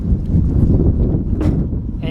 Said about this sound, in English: It's super windy, so it's not the best day to be filming outside.